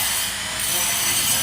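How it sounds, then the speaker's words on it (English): Travertine marble being sanded for house siding in a residential neighborhood of Da Nang gives a loud, harsh, continuous grinding hiss, close by with no one speaking. "it looks like they're sanding some travertine marble to place for siding on a house here."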